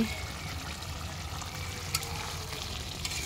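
Water poured into a pan of seared fish and potatoes for a tomato fish bhuna, a steady, close wash of trickling liquid with a couple of brief clinks.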